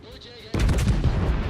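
A battleship's heavy guns fire in World of Warships: a faint ringing tone first, then a sudden loud booming blast that rolls on with rumbling echoes.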